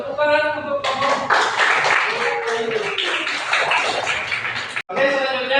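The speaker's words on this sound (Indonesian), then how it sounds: "tepuk tangan untuk kelompok." A room full of people clapping together for a student group, a dense steady patter of applause that starts after a sustained tone and stops abruptly near the end.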